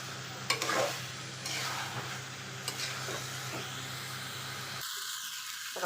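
Pulao with green peas stirred and fried in a pan at home, a steady close sizzle with scraping stir strokes throughout and no voices.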